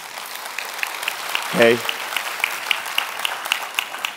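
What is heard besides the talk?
audience applause welcoming a guest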